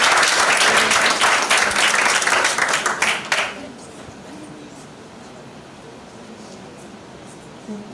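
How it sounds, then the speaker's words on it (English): Audience applause at a high school debating competition, a dense, loud burst of many hands clapping for about three seconds before quickly dying away to a quiet room murmur. "Might we give a final round of applause"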